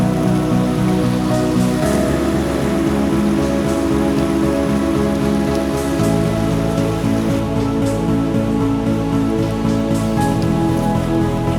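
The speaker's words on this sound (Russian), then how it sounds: "Накрапывает мелкий дождь" Light rain falls steadily along a trail beside the Murkhoi river in the Eastern Sayan mountains of Tofalaria, a loud, unbroken patter that fills the whole stretch without any voices.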